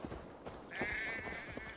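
Sheep in Assassin's Creed Valhalla giving a single wavering bleat in the middle of quiet game ambience, faint and moderately close, set among light footsteps and a steady high tone.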